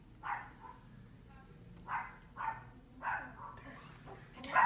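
Dogs bark in a few separate bursts at moderate distance on a city street, with a low background hum and some crowd murmur underneath.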